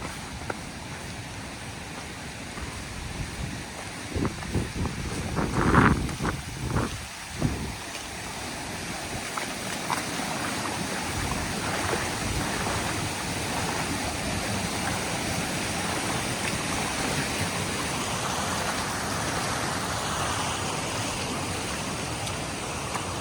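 A stream on the Panhala–Pavankhind trail rushes steadily in a continuous broad roar, with a few brief knocks and splashes early on before the flow settles into a constant wash.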